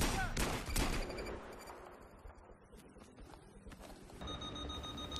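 Battlefield 3 gunfire from a G36C rifle and a Magnum 44 sidearm cracks out in loud bursts at first, then thins into scattered, fainter shots amid game noise.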